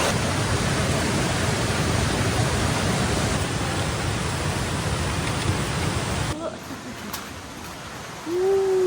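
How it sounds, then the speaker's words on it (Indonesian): A river flowing at a hiking crossing near Curug Cisadane, a loud steady rushing of water filling most of the clip, then dropping away abruptly into quieter surroundings with a faint high whistle-like tone near the end. "penyeberangan sungai yang kedua, ya"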